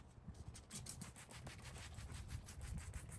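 Quiet, steady scuffing and rubbing of sandpaper over an old wooden hutch, a continuous, faint abrasive scratch with no speech.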